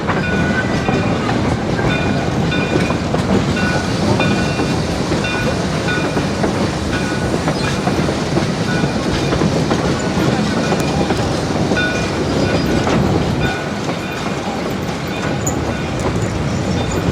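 West Side Lumber Shay #9, a geared logging locomotive on the Georgetown Loop Railroad, rolls past with a steady clickety-clack of wheels and the loud, continuous rumble of its rail cars, sustained and close throughout.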